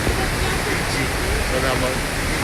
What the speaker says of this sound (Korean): 저 안에 폭포를 뚫고 동굴 안으로 들어가 볼 거고